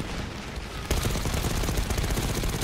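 Rapid bursts of Call of Duty: Black Ops 6 campaign gunfire crackle loudly, starting abruptly after a short quieter moment and continuing in dense rattling volleys.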